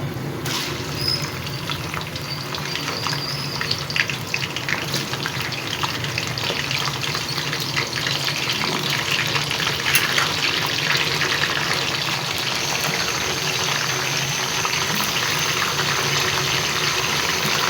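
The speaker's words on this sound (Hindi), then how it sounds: "अब इसमें चिकन शामिल कर दूँ, चिकन को फ्राई कर लेते हैं।" Chicken frying in a large pot for a big batch of chicken and rice, a steady loud crackling sizzle that runs continuously with no talking.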